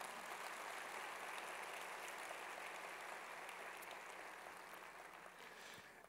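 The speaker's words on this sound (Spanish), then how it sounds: "Esto merece un fuerte aplauso, ¿sí o no?" A church congregation applauds during a sermon about the Bible, producing a steady, broadband wash of clapping that holds loud throughout and tapers slightly near the end.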